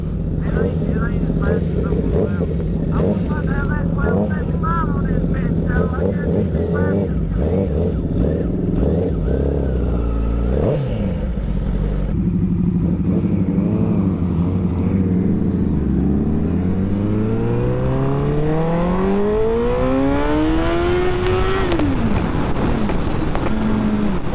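Sport motorcycles, a CBR1000RR, S1000RR and a Nightster, pulling hard on twisty mountain roads near Lake Lure, a loud engine drone rising through revs then climbing steeply in pitch, with wind roar and a rider talking over it.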